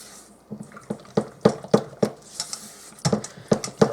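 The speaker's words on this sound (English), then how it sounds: "And we're just going to mix this up really, really good." Pork and potatoes being stirred together in a crock pot, giving a run of soft, wet clanks and scrapes from a utensil against the pot in an uneven rhythm, close up and with no talking over it.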